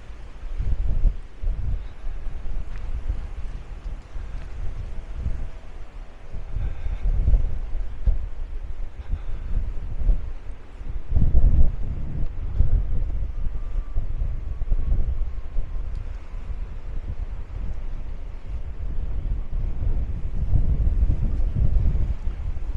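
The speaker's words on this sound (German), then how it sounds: "da pfeift es schon ein bisschen, da ist schon ein bisschen mehr Wind" Strong wind gusts across a terrace in Maspalomas, Gran Canaria, rumbling and buffeting in uneven surges, loud and low, with no voices over it.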